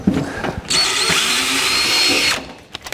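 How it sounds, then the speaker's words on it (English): A drill boring an 1/8 inch pilot hole through the metal trunk floor of a 1949 Chevrolet gasser, a close, steady whine of about one and a half seconds with brief handling noises before and after. "Drill an 1/8 inch pilot hole"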